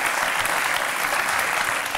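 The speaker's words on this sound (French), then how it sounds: "On peut l'applaudir." Steady, dense audience applause for performers, a continuous wash of many hands clapping at even loudness throughout.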